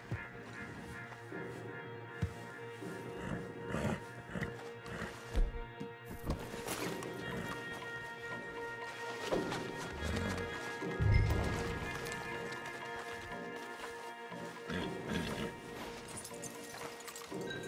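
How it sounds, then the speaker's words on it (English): Horses walking in the video game Red Dead Redemption 2, hooves clip-clopping steadily among other ambient game sounds and occasional clatter, with voices briefly around it. "Marston, you're gonna tether him up to Javier's horse."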